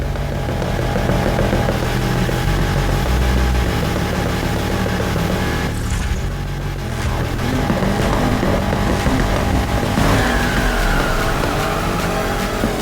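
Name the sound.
car driving and skidding in the video game Need for Speed Heat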